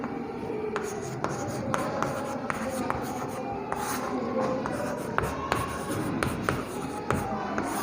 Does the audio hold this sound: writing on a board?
yes